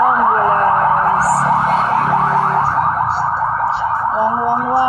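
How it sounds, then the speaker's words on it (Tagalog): An ambulance siren wails loudly and continuously in a steady, rising-and-falling pattern throughout, close by, with a low rumble of traffic beneath it at a street food spot. "Ambulance."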